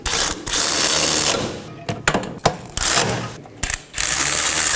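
A ratchet clicks in quick bursts while snugging down 18mm wheel bearing and hub bolts on a Chevrolet Equinox, loud and close, with short pauses between runs of ratcheting.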